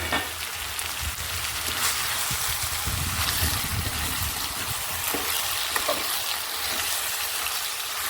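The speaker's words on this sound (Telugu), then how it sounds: "ఇప్పుడు ఇందులో మనం టమాటా ముక్కలను వేసేసుకుందాం." Tomato pieces dropped into a frying curry in a pan, a loud continuous close sizzle with crackling spatter and faint stirring scrapes throughout.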